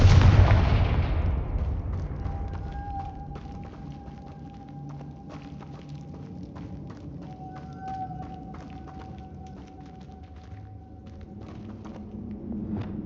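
Spell explosions in Hogwarts Legacy boom loudly at the start, then fade into a low rumble scattered with brief impacts and a thin sustained tone, with no voices.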